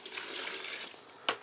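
Water from an outdoor barrel runs into a bowl of almost a kilo of dry refractory mix on a scale, a steady soft pouring wash ending in a brief sharper splash.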